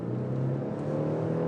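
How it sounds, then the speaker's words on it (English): A 2018 Genesis G90 speeds up on a highway outside Detroit, with a low, steady engine drone and road hum rising gently over a brief stretch, fairly quiet and with no voices. "let me accelerate a little bit here"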